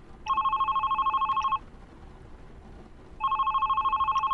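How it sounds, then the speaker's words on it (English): A telephone rings in the video game The Red Strings Club: two loud, steady electronic ring bursts separated by a pause, with no talk over them. "Should I pick up the phone?"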